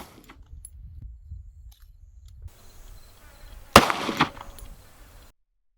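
A single sharp gunshot from a Federal HST .40 S&W round fired into a test medium, a loud close crack followed by a brief ringing decay, standing alone after a quiet stretch.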